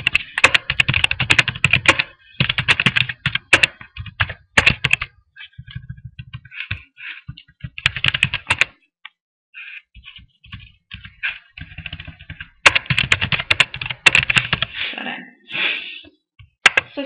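Fingers tap out bursts of rapid clicks on a computer keyboard, entering a shop address and opening hours for a webshop, with pauses between the runs of keystrokes and no talking.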